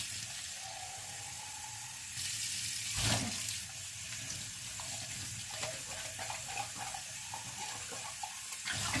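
Running water from a kitchen tap splashes steadily while dishes are rinsed at a sink with dish soap, a continuous close hiss with a brief louder gush partway through and small clinks, no talking.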